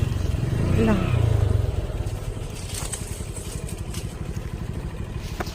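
A motorcycle engine near a traffic-jammed road to an island compound rises in a close rumbling pass, then settles into a steady chugging idle. Someone talks over it.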